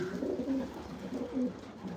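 Soft, throaty cooing from pigeons in a loft, two or three low rolling calls close by over quiet room tone, with no voices.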